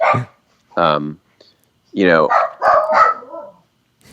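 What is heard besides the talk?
dogs barking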